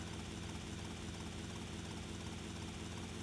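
A helicopter flying in GTA Vice City Definitive Edition makes a constant dense rotor and engine drone, steady and unbroken throughout, heard alone.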